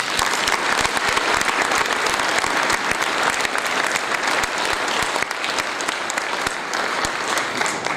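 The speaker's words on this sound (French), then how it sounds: "ce soir, ils peuvent recevoir nos applaudissements" A crowd at a mayor's New Year address in Voves, France, applauds police, security forces and firefighters with dense, steady clapping that holds at a constant level throughout.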